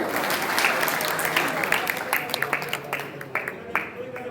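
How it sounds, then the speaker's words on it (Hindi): A crowd at a village political gathering in Rajepur, supporting a Congress party candidate, bursts into loud applause that thins toward the end into scattered, separate claps, with some voices mixed in. "तालियां बजाएं"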